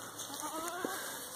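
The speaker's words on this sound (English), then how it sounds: "looks like we have a goat here with its head stuck in the fence" A goat with its head stuck in a fence gives a short, wavering bleat, fairly faint and heard alone over a quiet outdoor background.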